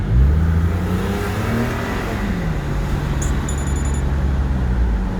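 A 2001 Porsche 911 Carrera 4 (996) with Tiptronic transmission, driven on a hot day in Florida: the engine drones steadily and its pitch falls and rises as it downshifts and revs, with a short electronic beep partway through.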